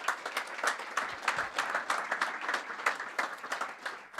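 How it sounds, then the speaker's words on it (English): Applause at a pre-fight press conference for GLORY 95 kickboxing, a modest crowd clapping at a fairly quiet, somewhat distant level with an uneven, rippling rhythm. "So please give us a round of applause for these guys here."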